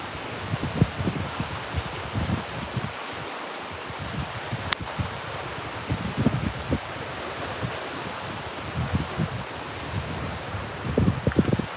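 Cold wind gusts buffet the microphone outdoors on a live stream near Canada, making low, uneven rumbling blasts that come and go over a steady hiss, with no speech.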